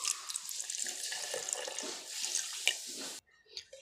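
Water pours steadily from a tap into a yogurt and milk mixture, a close, continuous splashing rush for about three seconds that stops abruptly, leaving faint handling noises.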